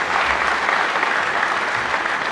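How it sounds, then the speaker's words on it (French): An audience at a Martin Fayulu rally presenting the Kisangani manifesto applauds loudly, a dense, even wash of clapping throughout the short burst. "Merci de les applaudir bien fort, s'il vous plaît."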